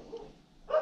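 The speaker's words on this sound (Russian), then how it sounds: "Собаки разлаялись." Dogs bark outdoors while meat is prepared for frying, two short faint yelps a moment apart, the second louder, with no talk over them.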